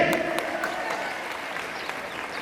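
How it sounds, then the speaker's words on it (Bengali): Sustained applause from an audience welcoming a retired biology professor arriving as a guest at a freshers' welcome ceremony, steady clapping filling the hall for a couple of seconds. "স্যারের জন্য জোরে একটি করতালি।"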